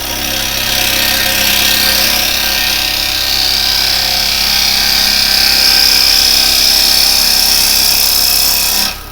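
A wood lathe spinning a workpiece while a carbide chisel cuts into it, a loud continuous whirring drone with a rising tonal whine as the tool bites in, stopping abruptly at the end.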